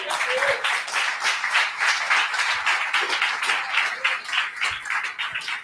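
Church congregation applauding steadily and loudly for several seconds, a dense continuous wash of clapping from many people with no speech over it.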